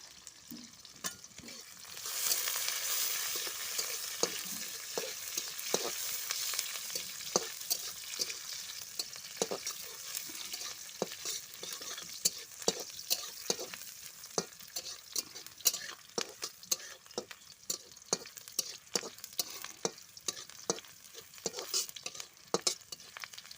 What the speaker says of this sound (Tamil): வெங்காயம் கருவேப்பிலை நல்லா வதக்கிடுச்சு